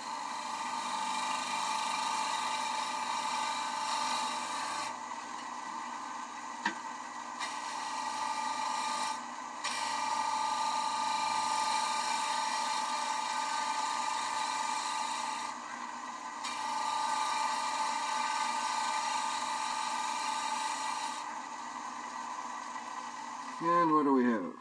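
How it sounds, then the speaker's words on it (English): A shear scraper working a soft wood bowl spinning on a lathe gives a steady, loud rasping hiss that runs in long sustained passes with brief pauses between them, close up. "One thing you haven't seen me try is shear scraping"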